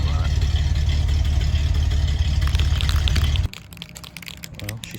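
Stock 110-horsepower V6 car engine with 92,000 miles idling up close, a steady low rumble that cuts off abruptly partway through, leaving quieter handling noises.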